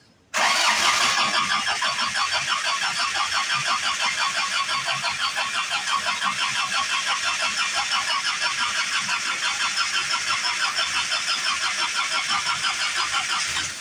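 A Mountain BC2 engine, fresh from an overhaul and with a newly replaced injection pump, cranks and catches within a second, then settles into a steady, even idle that runs alone for over twelve seconds before a slight dip at the end.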